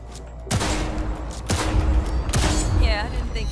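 Gunfire at a target practice range in the video game Cyberpunk 2077, with three loud close shots spaced about a second apart, each with a sharp crack and short decaying tail, followed by electronic chirps.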